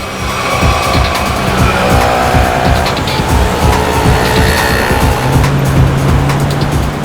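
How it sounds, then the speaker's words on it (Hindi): A car is driven hard in a chase. A loud, steady engine roar runs throughout, with repeated tire squeals and skids over it, close up and without speech. "गाड़ी तेज चलाओ।"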